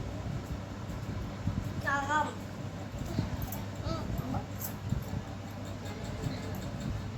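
A dog whimpers and yips in a few short, thin, rising whines at a home, fairly faint and partly buried under steady background noise and people talking.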